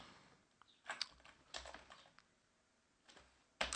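Quick bursts of keystrokes on a computer keyboard as commands are typed, irregular clusters of close, crisp clicks separated by short pauses in a quiet room.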